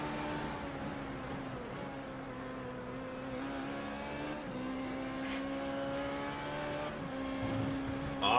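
A sim racing car's engine is heard onboard into Ascari at Monza during a racing video game event. It hums steadily, rising and falling through the gears and running continuously at moderate loudness.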